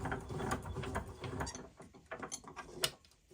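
A bench vise with soft jaws fitted is wound open, giving a close run of rattling, ratchet-like metallic clicks and scrapes that rise and fall over about three seconds, with no speech.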